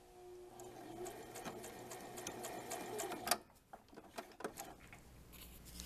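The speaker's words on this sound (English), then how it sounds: "I'm top stitching it all along the neckline from the front clipped corner all the way to the next front clipped corner" A sewing machine top stitches along a square neckline on a dirndl blouse, a steady close mechanical whir running for about three seconds, then stopping and giving way to a few scattered handling clicks and soft rustles.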